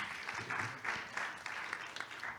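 Scattered audience applause at a DNS forum panel session, moderate and somewhat uneven, with clapping swelling in loose pulses for a short stretch.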